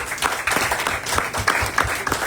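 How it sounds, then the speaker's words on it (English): A round of applause from the audience at a volleyball kick-off show rolls through the whole stretch, dense overlapping claps at a steady, moderately loud level with no talk over it. "Let's give her a round of applause."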